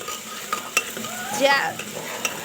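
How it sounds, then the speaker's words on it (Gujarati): Chopped onion frying with cumin in a hot pan, stirred with a spoon: a steady sizzle under scraping strokes and a few sharp clicks of the utensil against the metal, no voices. "હવે ડુંગળીને આપણે મિક્સ કરી દઈશું"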